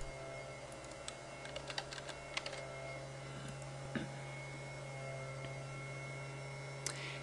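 Keys clatter on a computer keyboard while logging in to phpMyAdmin as a test user. The clicks are faint and intermittent, with a steady mains hum underneath and no talking.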